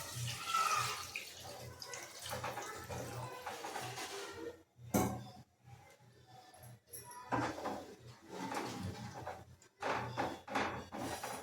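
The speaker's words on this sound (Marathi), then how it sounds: "आपलं साधं पाणी टाकायचं" Plain water poured into a cooking pot of jackfruit curry, a soft running, splashing pour with brief pauses and faint clatter, fairly quiet and close.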